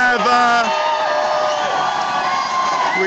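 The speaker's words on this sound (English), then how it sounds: "have some response here from the crowd, probably reacting to all the people in the businesses and apartment buildings" A protest crowd at a Montreal anti-austerity march cheers, whoops and shouts in a loud, sustained roar that stays steady throughout, with a few voices standing out near the start.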